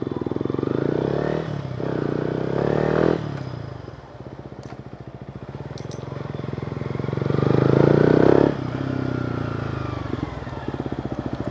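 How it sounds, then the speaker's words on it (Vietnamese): A modified Yamaha MT15 motorcycle with an aftermarket exhaust rumbles deep and close while riding, swelling in two throttle surges and settling back to a burbling idle-like putter between them. "Anh đi một vòng để cho các bạn nghe tiếng này."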